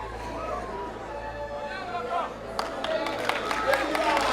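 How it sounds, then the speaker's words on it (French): Audience applause for a best actor winner at the closing ceremony of a school film festival, a crowd murmuring and then breaking into growing, dense clapping that swells toward the end. "Un applaudissement très très fort."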